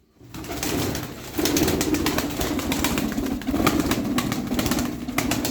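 Aksaray tumbler pigeons, a flock of play birds, coo steadily and close by, with soft wing flutters breaking through the continuous murmur.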